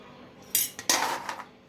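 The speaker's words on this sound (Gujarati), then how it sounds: "હવે આ બધા શક્કરપારા છે ને આપણે આ ચાસણીમાં એડ કરી દઈશું." Fried shakarpara dropped into sugar syrup in a metal pan, a quiet start then a few bright clattering scrapes and clinks of utensil on pan over about a second, with no talking.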